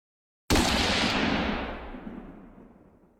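A single loud gunshot rings out as a sound effect in a narrated story, a sharp sudden blast after brief silence with a long decaying echo tail.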